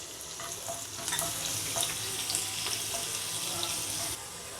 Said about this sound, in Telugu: ఇలా మొత్తం యాడ్ చేసుకొని కొంచెం వేయించుకోవాలి.